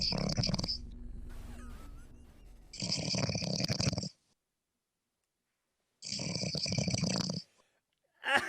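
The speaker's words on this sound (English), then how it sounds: "That is a hardcore snore." A man snores loudly in deep, rasping bursts, three long rattling breaths separated by quiet gaps, heard up close.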